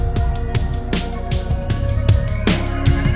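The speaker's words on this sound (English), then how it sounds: "This is a drum groove. It sounds like this." A short drum groove sample loops its tight beat: punchy kicks and crisp snare or hat hits in a steady rhythm over a bass tone, loud and up close.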